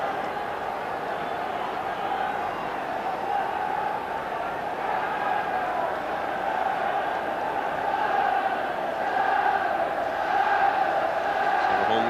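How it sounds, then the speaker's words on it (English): A football crowd at a Celtic match against Hibs roars and cheers in a stadium in 1996, a broad, continuous wash of massed voices that swells slightly toward the end. "Crowd getting right behind the team as Tom delivers the cross."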